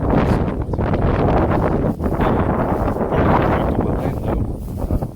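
Strong wind gusts across open ranch land, a steady loud roar with buffeting against the microphone throughout.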